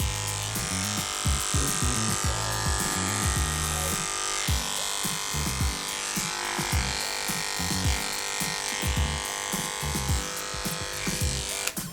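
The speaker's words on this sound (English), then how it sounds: "Then I'm going to clipper." Electric clippers buzz steadily and close up while clipping a dog's coat, the motor tone pulsing in a rapid uneven rhythm as the blades work through the fur.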